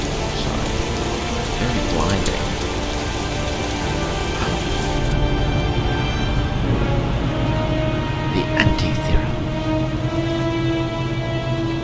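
Heavy rain pours steadily in the video game Heavy Rain, a dense, loud, continuous wash of downpour with faint, occasional rumbles beneath it and no talking.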